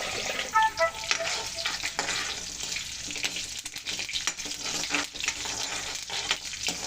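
Prawns sizzle and fry in a pan for a brinjal and prawn curry, a steady broadband hiss with occasional stirring scrapes, close and fairly loud throughout.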